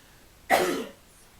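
A single sharp cough bursts out close by, trailing off over about half a second against a quiet background.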